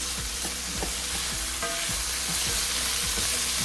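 Pork frying for Thai fried rice, a steady close sizzle from the pan with repeated scraping and tapping of a stirring utensil throughout.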